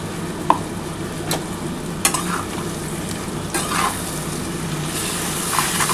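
A ground paste of green chilli, ginger and garlic, thinned with a splash of water, sizzles loudly in a pan, a steady close frying hiss broken by a few scraping stirs.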